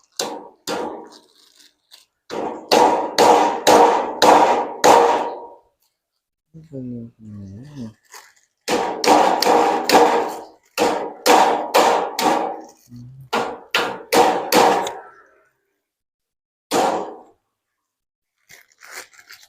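A makeshift striker is used in place of a hammer, giving bursts of sharp, close, rapid knocks in quick runs of four to six. Pauses separate the bursts, and a short stretch of speech falls between them.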